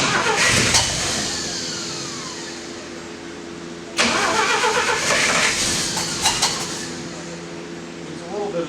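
A small engine run with less choke coughs and sputters, fires near the start, then starts again with a sharp burst and settles into a steady mid-pitched running drone. Someone speaks briefly over it.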